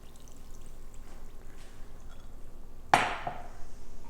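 Cool water is poured into a bowl of bread dough ingredients in a single short splash that starts abruptly and fades quickly, after quiet room tone.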